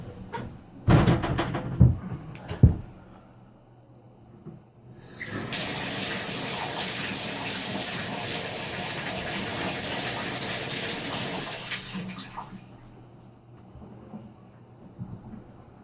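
After a few knocks and clatters, water gushes steadily from a repaired tap for several seconds, a loud even rush that then cuts off, leaving quiet.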